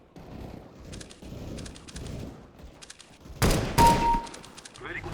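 Two sharp gunshots from Counter-Strike: Global Offensive ring out in quick succession near the middle, loud and close, following a stretch of talking with faint in-game ambience.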